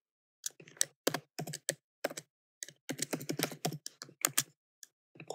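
Computer keyboard typing in bursts of rapid clicks while an app name is entered during a React Native and Firebase setup, with short pauses between runs of keystrokes, close and clear with no talking.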